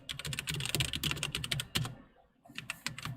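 Rapid typing on a computer keyboard, close and crisp, with dense bursts of key clicks, a brief pause, then a few more keystrokes and no talking.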